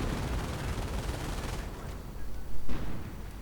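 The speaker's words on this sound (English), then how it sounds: "And another mortar." Mortar fire and other battle blasts in the Company of Heroes strategy game, a dense continuous roar of gunfire with a couple of heavier thuds near the end.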